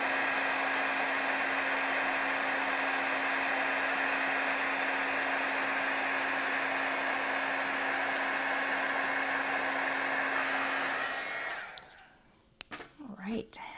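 Heat tool roaring close and steady for about eleven seconds while melting embossing powder on a card front, then shutting off into quiet rustling.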